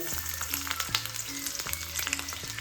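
Finely chopped garlic and ginger frying in oil in a pan, a soft steady sizzle at moderate distance with faint stirring ticks and no voices.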